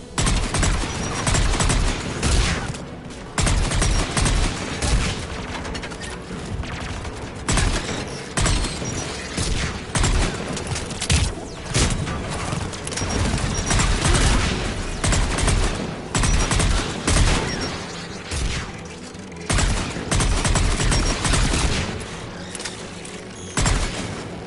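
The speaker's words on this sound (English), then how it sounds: "AA guns, dead ahead!" Anti-aircraft guns firing in the video game Mass Effect 3, heavy and continuous rapid bursts with booming impacts and mechanical clanks, loud and sustained with no voices.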